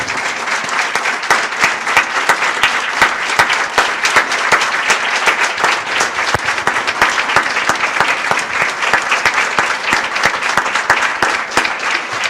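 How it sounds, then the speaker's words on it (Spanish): Loud, sustained applause from a large audience honoring copyists at a lecture, dense steady clapping filling the whole stretch without letting up. "Vamos a darle un fuerte aplauso a estos copistas."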